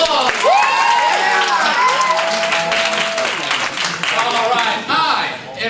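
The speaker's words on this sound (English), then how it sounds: "Give yourselves a round of applause." A Comedy Sportz crowd at the WHS vs Bishop Chatard show claps loudly and steadily while voices cheer, whoop and call out over the applause, which dips briefly near the end.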